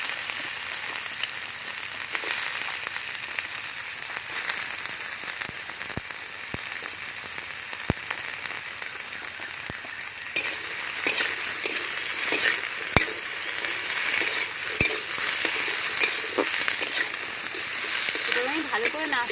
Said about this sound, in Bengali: তেলটা আমার গরম হয়ে গেছে, এবার গরম তেলের মধ্যে আমি আমলকি কাটা দিয়ে দিচ্ছি।